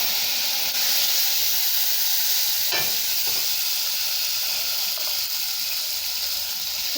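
Shallots, coriander and curry leaves saute in a pan for chow chow and brinjal sambar, giving a steady, close sizzling hiss with a couple of faint clinks of stirring.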